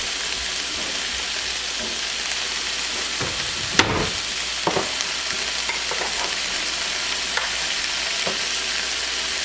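Mushrooms and minced garlic fry steadily in a pan, a continuous sizzle broken by a few sharp utensil clinks and scrapes as the pan is stirred, with no voices.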